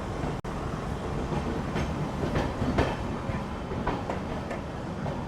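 Secunderabad to Vasco da Gama Express running steadily, wheels rolling with a continuous rumbling clatter and faint rhythmic clicks heard from inside the train, one sharp knock near the start.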